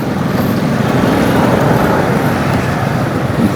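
Continuous loud road traffic rumble on a congested street where large trucks are parked, a dense steady wash of engine and tyre noise with no distinct single pass-bys.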